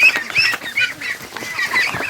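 Free-range ducks call in a lively flock, a run of repeated quacks and honking cries overlapping at close range, steady throughout with no talking.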